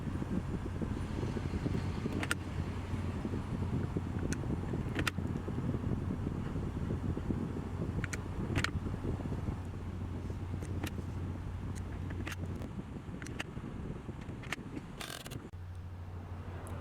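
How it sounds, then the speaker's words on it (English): A Nissan Sentra engine idles while warming up, a faint, steady low hum heard outdoors under light wind noise, with a few brief clicks and knocks scattered over it. "While the car is warming up, I will show all the tools needed for this job."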